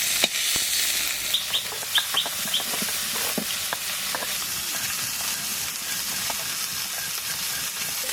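Pakal fish sizzling as it fries in hot oil, a steady hiss broken by pops and the scrape of a utensil against the pan, heard close and alone.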